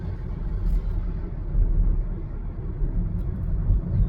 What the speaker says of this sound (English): now driving home